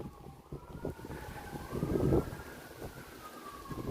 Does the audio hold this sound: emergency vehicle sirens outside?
yes